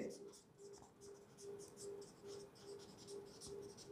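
Chalk or marker strokes scratching on a board during a biology lesson, a steady run of short rhythmic scrapes under a faint constant hum, with someone talking over them.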